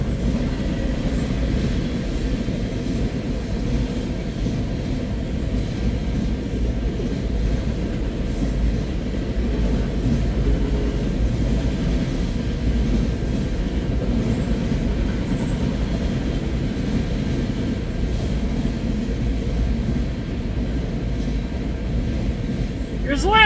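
Heavy rail cars of a CN freight train rumble steadily past at close range, a continuous low roar with faint wheel clatter throughout.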